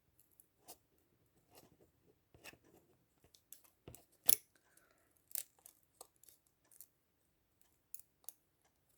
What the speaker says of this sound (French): soit vous prenez un cutter, moi je le fais au ciseau